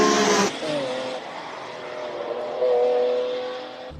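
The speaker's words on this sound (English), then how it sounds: "Beautiful V8s attacking the track." A 2001 five-litre V8 Cobra, a recreation of the classic Shelby Cobra, on a Cape Town hillclimb course: a loud burst of engine noise, then a sustained droning V8 pull that swells again and fades, with no talking.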